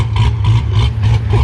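A cammed Corvette Z06 engine with a check engine light on idles roughly nearby, its deep rumble pulsing in an uneven, choppy rhythm for a short stretch with no talk over it.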